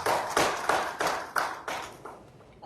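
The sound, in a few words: audience applause welcoming a panelist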